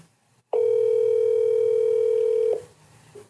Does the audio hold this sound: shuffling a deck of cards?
no